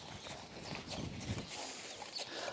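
A racehorse's hooves clip-clop at a steady walking rhythm, fairly faint and distant, set against soft outdoor background noise at a racing stable.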